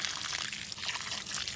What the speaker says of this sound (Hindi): इसको हल्का सा पानी भी दे देंगे